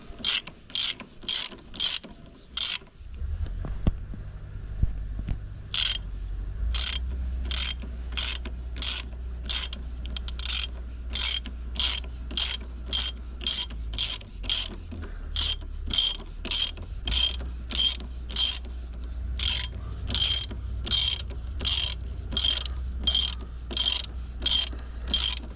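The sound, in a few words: ratchet tightening a bolt on a 1991 Venture Royale fork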